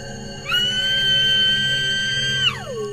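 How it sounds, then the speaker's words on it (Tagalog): A person screams in an animated Tagalog horror story. A single sustained, high-pitched cry lasts about two seconds and drops in pitch as it fades. It rises clearly above a low background. "pinilit kong sumigaw"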